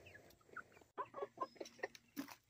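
Hens on a small homestead cluck in soft, scattered bursts during feeding, several short calls overlapping at close range with quiet pauses between; no talking.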